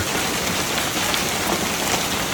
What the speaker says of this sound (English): The hail that fell had a diameter of up to 5 centimeters, with wind speeds reaching 90 kilometers per hour.